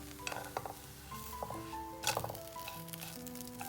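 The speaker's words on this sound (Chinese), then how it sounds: "锅里抹层油，开的是小火，放入饼，慢慢的煎，煎到表面金黄" Scallion oil flatbread pan-frying slowly in a lightly oiled pan over low heat gives a soft, steady sizzle with occasional utensil and pan clatter, under background music.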